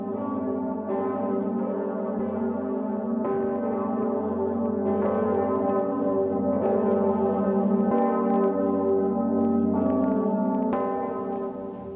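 Large fifteenth-century bells of Cologne Cathedral ring continuously in a rich, layered peal, deep tones overlapping and sustaining for the whole stretch, loud and resonant with no voices.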